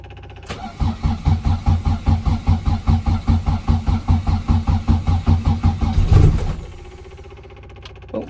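A classic Mini with a 1380 engine cold cranking after sitting for a week, a loud rhythmic chug of the starter turning over repeatedly for several seconds, then a brief catch and surge before fading to a low rumble.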